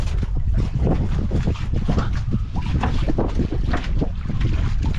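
Strong wind buffets a small boat on fast-flowing water near a fish trap, a loud continuous rushing roar with gusting microphone buffeting and choppy splashes throughout.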